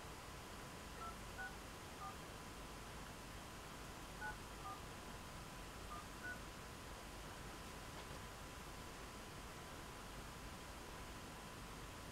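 Telephone dialing tones, a scattered series of short DTMF keypad beeps at moderate loudness over a steady hiss, with no voices.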